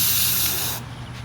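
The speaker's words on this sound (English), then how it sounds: "Make sure you cover it in carb cleaner." A steady loud spray of carburetor cleaner onto Troy-Bilt blower carburetor parts hisses for about a second, then cuts off, leaving faint residual hiss.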